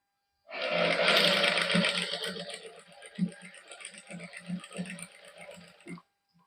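A sewing machine stitches lace onto a suit fabric, its steady motor whir running for several seconds with soft rhythmic ticks and thumps from the needle and feed, fairly close and alone.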